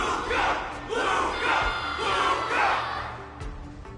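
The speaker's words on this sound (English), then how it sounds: "Everyone's cheering for you, Luca!" A video game crowd cheers and roars in repeated swelling waves, loud and close, with a few thuds underneath.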